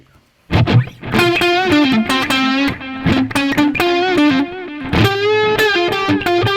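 An electric guitar with a delay effect plays a melodic phrase, each note echoed by a repeating delay that trails behind, loud and close with a slightly driven tone.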